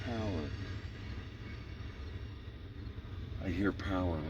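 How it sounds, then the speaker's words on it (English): Diesel locomotive power in a rail yard revving up, a low rumbling engine drone that sits steadily under men's conversation for the whole stretch. "I hear power revving up."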